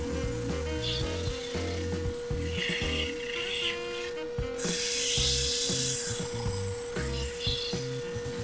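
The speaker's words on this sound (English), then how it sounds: "then we're going to go to the sanding station to make sure that they are actually exactly the same" Wooden Easter bunny cutouts are sanded at a sanding station. Rough rubbing and rasping on the wood rises and falls over a steady machine hum, close and fairly loud.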